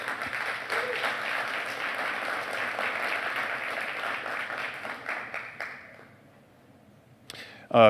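An audience applauds steadily for several seconds, the clapping fading out toward the end before a brief sharp noise.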